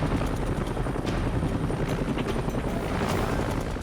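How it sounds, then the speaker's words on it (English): A rescue helicopter hovers about 100 feet overhead during an aerial lifeguard rescue, its rotor chop loud, steady and continuous throughout with a dense whirring roar. "Lifting the patient to the helicopter requires a high hover, an essential but risky maneuver."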